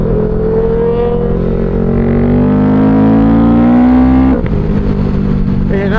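A CFMoto CLX-700 Sport motorcycle fitted with a Throttle Punk intake revs up with a rising engine tone, climbing steadily and then dropping sharply as the throttle is released. It is loud and close, with no talking.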